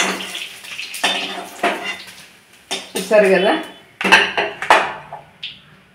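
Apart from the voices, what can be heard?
transferring fried eggs into a bowl, utensils clinking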